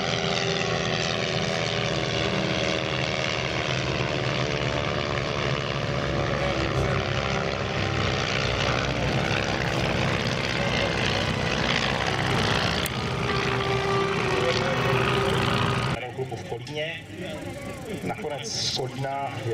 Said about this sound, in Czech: Vychutnejte si průlet skupiny vedené letounem Stearman